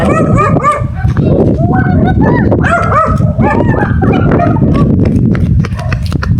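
Several dogs bark repeatedly in quick, overlapping bursts in the jungle, loud and close, with some whining and a busy background.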